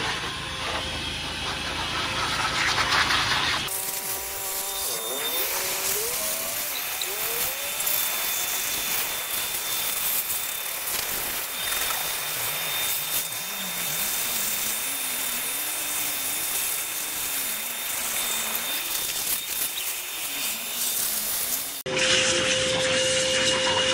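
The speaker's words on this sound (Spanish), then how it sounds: "vamos a secar con la presión de una buena aspiradora." A loud, steady vacuum roar with a high whine, drying a washed car engine, runs for most of the stretch, its pitch wavering slightly, framed by a different motor hum at the start and end.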